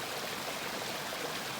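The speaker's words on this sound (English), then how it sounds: "Just the water coming out of the little valley with the snow all around it." Meltwater stream flowing out of a small snowy valley along a mountain trail, a steady, even rush of running water with constant hiss and no variation, moderately quiet and unaccompanied by voices.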